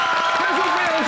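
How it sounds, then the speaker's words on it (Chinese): Applause from a studio audience on a children's game show after the kids' performance, a short burst of steady clapping with a voice talking over it. "先为自己今天精彩的那个表演掌声鼓励一下"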